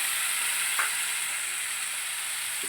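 Tomato frying in spice paste (masala) in a pan gives a steady, close sizzling hiss, with a faint stir or two and no talk.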